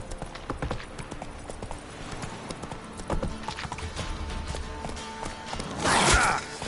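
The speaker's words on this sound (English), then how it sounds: "Run, Roach" Hooves of a horse clip-clop steadily in The Witcher 3, a rhythmic galloping beat close by with a brief whinny-like burst near the end.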